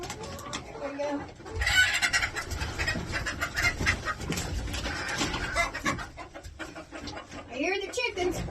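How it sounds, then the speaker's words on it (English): Chickens in a homestead coop cluck and squawk repeatedly and close by, with busy overlapping calls throughout and people talking over them. "I hear the chickens."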